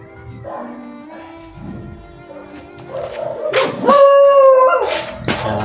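Dogs howling and yipping nearby, long wavering howls building in loudness toward the end, with some faint background noise.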